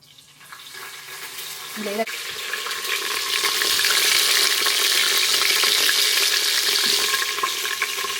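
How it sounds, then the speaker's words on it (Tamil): Mustard seeds and curry leaves hit hot ghee, building from quiet into a loud, steady crackling sizzle that holds to the end, with a short clink near the start. "நெய் சூடகரின உடனே நாங்கள் வந்து கடுக போட போறோம் வடிவா கடுகு நல்லா பொறிஞ்சு வந்த உடனே கருவேப்பிலை"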